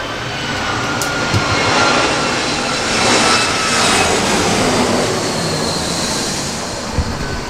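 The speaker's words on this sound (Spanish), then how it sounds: "los aviones pasan constantemente por encima de la casa" A loud airplane roars low over a house near an airport, its broad rushing engine noise swelling and slowly fading, with a couple of faint knocks nearby.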